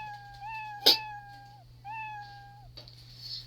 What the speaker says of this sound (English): it creates a meow sound